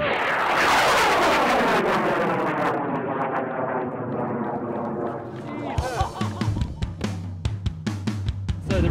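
An amateur rocket launches with a loud, roaring rush that falls away as it climbs into the distance, followed by nearby voices and some sharp knocks and handling noises.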